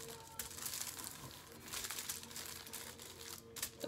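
Thin metal tooling foil being wrapped and pressed by hand with help from a pencil, giving a steady close crinkling and crumpling that runs throughout with slight swells in loudness.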